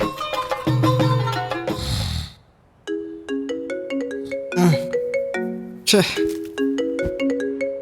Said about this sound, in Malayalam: കുറെ നേരം ഫോൺ അടിക്കണം